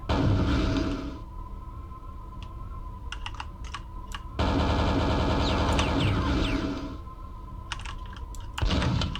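Gunfire from a Doom-style video game map, loud bursts of rapid shots in two long stretches, separated by quieter gaps with scattered single clicks and thuds.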